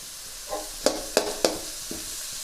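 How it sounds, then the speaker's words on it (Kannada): Onions and broccoli fry in a pan over a faint sizzle, broken by three sharp, close clacks of a utensil against the pan in quick succession, then a softer tap. "ಸ್ವಲ್ಪ ಚೆನ್ನಾಗಿ ಫ್ರೈ ಆಗಬೇಕು"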